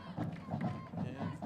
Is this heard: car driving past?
no